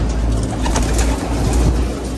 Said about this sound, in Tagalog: tingnan natin yung mga kalapati natin